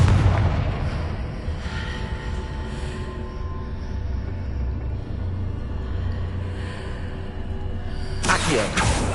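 Confringo fire spells burst repeatedly during Hogwarts Legacy combat, dull booming blasts over a dense, continuous rumble with a sharper crackling impact near the end.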